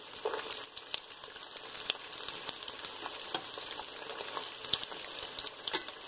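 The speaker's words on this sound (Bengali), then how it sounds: "পেঁয়াজটা হালকা ভাজা হয়ে গেছে, পেঁয়াজ বেশি ভাজার দরকার নেই।" Onion, ginger and garlic fry in a pan for a soya chilli dish, a continuous close sizzle with scattered crackles and pops at moderate volume.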